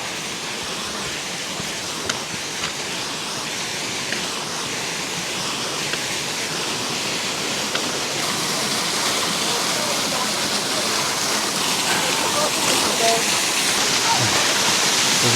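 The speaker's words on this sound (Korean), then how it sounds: "여기 뒤에 폭포가 흘러내리고 있어요. 아주 시원하게 물이 흘러내리고 있습니다." A waterfall pours along the Tiger Leaping Gorge trek, a steady rushing hiss of falling water that grows slightly louder toward the end, with faint voices in the background.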